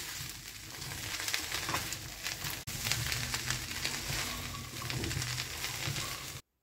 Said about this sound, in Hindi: अब एक पैन में 2 से 3 खाने के चम्मच तेल डालें और उसमें कटी हुई भिंडी को डालकर अच्छी तरीके से भूनें।